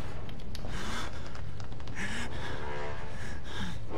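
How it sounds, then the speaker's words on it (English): The player character in the horror game Outlast panting heavily, quick gasping breaths repeating over a constant ambient background, fairly close and loud. "Quit breathing so fucking hard."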